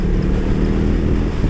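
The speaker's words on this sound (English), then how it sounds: "I'm not sure whether you are able to hear the exhaust." A 2020 BMW R18 motorcycle's exhaust on the move gives a steady, deep, continuous rumble, close and fairly loud, partly blurred by wind buffeting the microphone.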